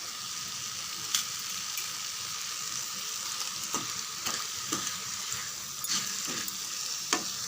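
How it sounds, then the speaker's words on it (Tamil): Eggplant sizzles in a hot pan with a steady frying hiss, broken by a handful of sharp clicks and scrapes as it is stirred. "இங்கே 2 நிமிஷம் வதங்கட்டும்."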